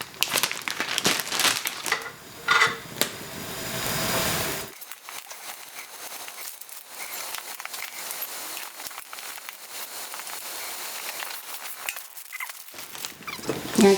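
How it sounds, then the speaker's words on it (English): Crinkly plastic rustling and crumpling close by for a few seconds, then quieter scattered handling noises. "You can put it in a plastic bag when you took it off."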